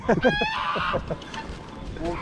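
Geese honk in a quick, close burst over people talking and laughing nearby.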